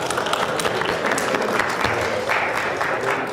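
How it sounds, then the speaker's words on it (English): A group of people in a meeting room clap together, a dense, continuous burst of many hands at close range, steady and fairly loud, with faint voices underneath. "Just clap if you can hear me."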